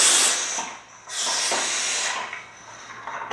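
A firefighter's air pack gives loud, close bursts of hissing air as it is hooked up, a long rush, a brief drop, then another sustained hiss that fades into smaller puffs.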